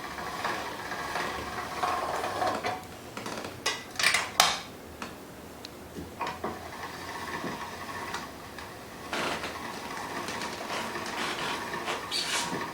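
A hand-cranked pasta machine rolling homemade pasta dough through its settings, giving steady mechanical ratcheting and clicking with a few louder clattering bursts, close by and without talk.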